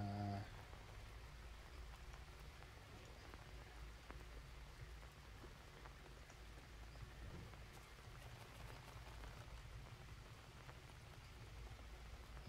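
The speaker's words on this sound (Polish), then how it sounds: "To deszcz pada" Steady rain in the video game Green Hell patters continuously on surfaces, a soft even hiss with scattered droplet ticks, moderately faint and without any voices.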